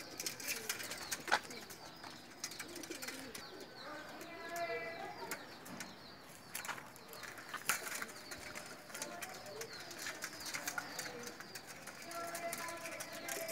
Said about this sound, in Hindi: ये फ़कीर गुल कबूतर है, और ये भी जालदार मादी है, टेडी।